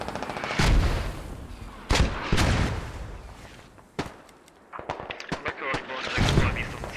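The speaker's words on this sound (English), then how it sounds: "they have to be careful with these mortars" Mortar and gunfire barrages in a tactical squad shooter match, several sharp booming blasts scattered across the span with a rapid burst of shots near the end, over steady battlefield noise while a commentator speaks throughout.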